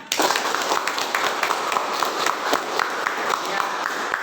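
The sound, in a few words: applause in a classroom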